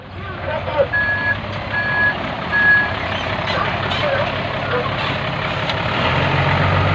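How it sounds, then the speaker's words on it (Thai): A six-wheel dump truck sounds three evenly spaced reversing beeps over its idling diesel engine while a tractor digs soil nearby; the rumble rises slightly toward the end. "รถไถกำลังขุดดินใส่ล้ออยู่"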